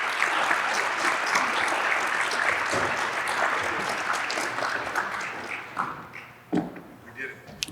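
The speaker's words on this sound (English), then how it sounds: "Let's give them a round of applause." Full audience applause at a summer civic event, thick and even at first, then thinning out and fading into scattered claps, footsteps and shuffling as people settle.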